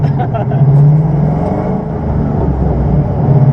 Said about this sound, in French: On tourne à fond à gauche et puis accélère.